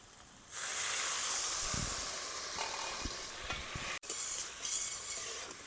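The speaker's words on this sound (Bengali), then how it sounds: "এবারে অল্প জল দিয়ে দেবো" Water pours onto frying masala for an egg ball curry and bursts into a loud, steady hissing sizzle, followed by a few soft stirring scrapes and a brief break before the sizzle resumes, with no talk.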